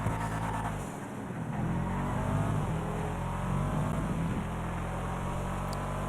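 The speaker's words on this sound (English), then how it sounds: "The sound that engine makes on the freeway." In GTA 5 Online, a car engine revs and roars at speed on the freeway, a loud sustained drone that dips briefly then surges again.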